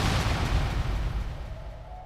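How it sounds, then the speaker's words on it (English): A huge explosion rips through a lab in a Mr. Freeze scene, a loud booming blast that rumbles and slowly fades over two seconds, with a faint tone emerging at the end. "It was widely believed that Freeze died in the explosion"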